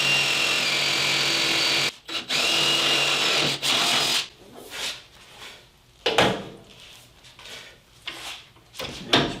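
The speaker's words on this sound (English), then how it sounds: "I can actually start the drill" A power drill bores a hole into the table of a Hammer N4400 band saw, a loud steady whine for a few seconds that cuts out briefly, then quieter intermittent bursts and workshop clatter.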